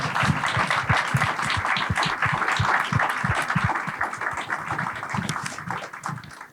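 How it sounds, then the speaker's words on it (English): A live audience at a mental health in sports event gives a warm, sustained round of applause, dense clapping filling the room steadily and fading slightly toward the end. "We need to give Fergie a warm round of applause because he needs to leave the program a little early."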